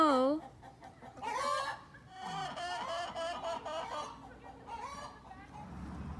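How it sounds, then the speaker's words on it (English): A rooster and hens cluck and call near at hand, with several clucking bursts and a brief crow-like rise at the start, a voice speaking softly between them. "The rooster"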